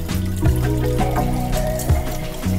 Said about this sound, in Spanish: Vamos a ir tirando el agua despacito.